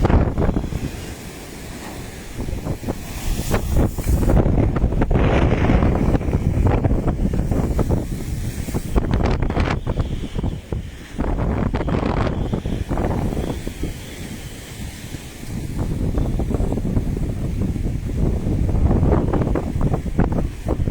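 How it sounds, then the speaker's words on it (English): Storm Eunice waves surge and crash at Ilfracombe Harbour as strong wind buffets the microphone, with loud continuous roaring swells rising and falling in heavy waves. "The waves are building as the tide goes out again."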